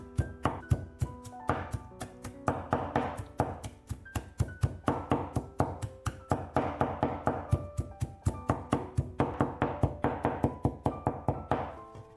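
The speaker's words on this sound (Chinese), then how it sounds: "然后和猪肉一块剁碎。" Cleaver chopping pork together with chopped green onions into coarse mince on a board, a steady fast run of loud, close knocks and thunks throughout, with no talking.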